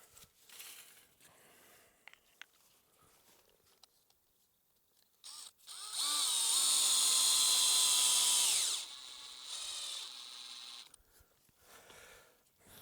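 A cordless drill drives an offset insulator into a fence post while a high-tensile hot wire is added to an existing barbed wire fence; one loud, steady whirring run of a few seconds is followed by a shorter, softer spin.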